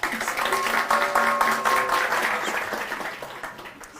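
Audience applause for a speaker named Mariella at a newsletter feedback talk, a steady burst of clapping that starts loud and gradually thins out over a few seconds, with a faint murmur of voices underneath.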